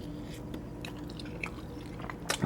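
Chewing a bite of homemade macaroni and cheese with hot sauce, soft close wet mastication sounds with a few faint crunchy clicks, quiet and without talk.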